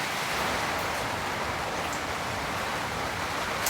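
Torrential rain drumming on a remote cabin in a storm, a thick, unbroken wash of water noise holding steady and loud throughout.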